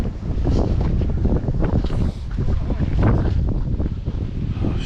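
Strong gusting wind storm on the Pacific Crest Trail buffets the microphone with a loud, steady roar that swells and dips throughout, with no voices.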